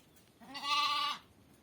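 An orphan lamb, abandoned by its mother and now hand-fed milk, gives a single clear, close bleat lasting under a second against quiet farm background.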